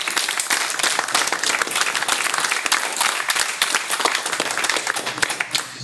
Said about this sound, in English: let's give a round of applause to everybody